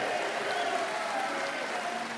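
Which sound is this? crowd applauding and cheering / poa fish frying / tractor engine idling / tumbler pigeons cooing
crowd applauding and cheering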